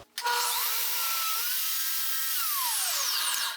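A saw cuts a wooden tenon to width, held in a gripper, as one continuous loud whining cut lasting several seconds with a sudden start and a tapering finish.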